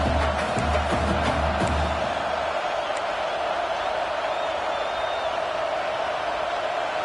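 Steady roar of a college football stadium crowd as a field goal attempt approaches on fourth down, a broad, continuous wash of distant voices with a brief deeper rumble near the start.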